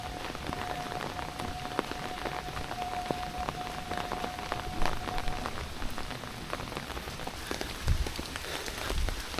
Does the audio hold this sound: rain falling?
yes